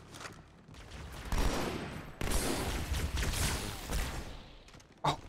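Sniper rifle fire in the Halo 2 video game: a steady roar of gunfire building over several seconds, a sharp jump in loudness midway, then one short, hard crack near the end.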